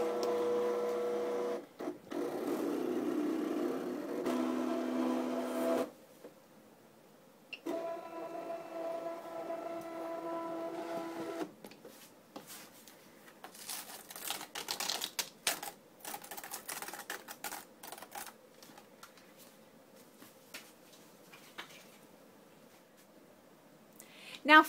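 An electronic die-cutting machine cuts paper flower shapes, with bursts of whirring motor movement followed by a long stretch of quieter, irregular clicking and shuffling carriage sounds.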